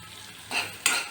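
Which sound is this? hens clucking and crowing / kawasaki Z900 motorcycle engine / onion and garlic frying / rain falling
onion and garlic frying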